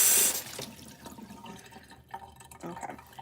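Water gushes from a kitchen tap into a sink for dish washing, a loud hissing splash at first that settles into a softer, steady run with faint clinks, no speech.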